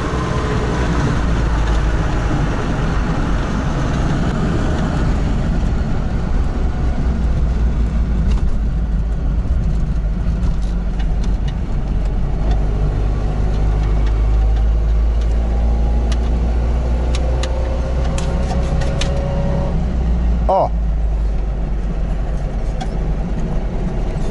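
A Trabant 601 drives at about 100 km/h into a headwind, its engine and wind roar forming a loud, steady drone throughout, with a brief knock near the end.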